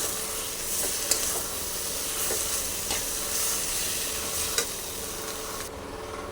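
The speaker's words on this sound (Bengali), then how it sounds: "আলুটা দিয়ে কষিয়ে নেব ভালো করে।" Potato pieces tossed and stirred in hot spiced oil, sizzling steadily up close, with scraping strokes of the spoon against the pan at intervals and no one speaking.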